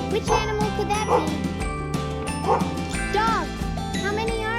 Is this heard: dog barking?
yes